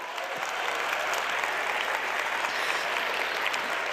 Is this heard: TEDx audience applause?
yes